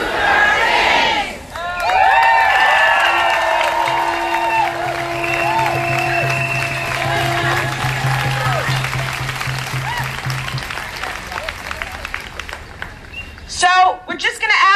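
Crowd at an immigration rally in Springfield cheering and applauding, loud and close at the start, then settling into a mixed murmur of voices and chatter with scattered shouts, with another burst near the end.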